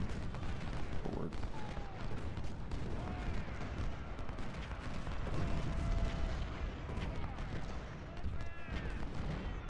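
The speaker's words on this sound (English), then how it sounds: "There are a lot of cannons firing at the moment." Cannon fire rumbles steadily in Ultimate General: Civil War, a Civil War battle game, with dense overlapping booms and crackling volleys running the whole time at a fairly constant level.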